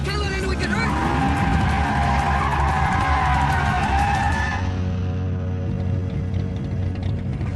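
A car with cut brakes skids in a TV drama scene: loud, sustained tire squeal with engine noise, continuing for several seconds before easing into a lower rumble.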